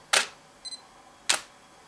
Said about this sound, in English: what you heard there was the sound of the mirror flipping in order to take a reading